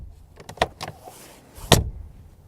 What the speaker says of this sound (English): exclusively the traditional door handles with the closing sound